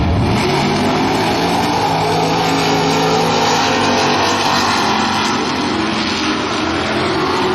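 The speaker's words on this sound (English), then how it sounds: "taking off the big wheelie machine, the 65 Belvedere Superstock 426 Heavy. Watch that car leave the line, folks." A 1965 Plymouth Belvedere Superstock 426 Hemi drag car leaves the line at a drag strip, its engine roaring loud and sustained for several seconds with a dense, rumbling race-car blare throughout.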